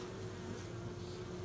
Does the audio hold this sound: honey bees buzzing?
yes